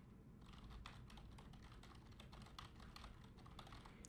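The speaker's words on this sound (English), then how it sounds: "I will go type on my keyboard right now." Steady typing on a computer keyboard, heard through a Fifine K780A USB microphone: continuous quiet key clatter over a low background hum, with no talking.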